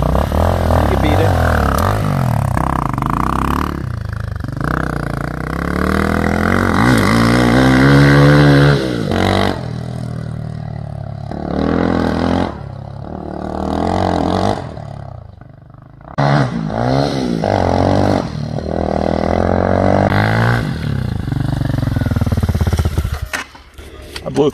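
A 250cc motorcycle, a Hawk DLX 250 or RBX 250L, revs loudly and close, its engine note rising and falling through several throttle blips with brief drops between.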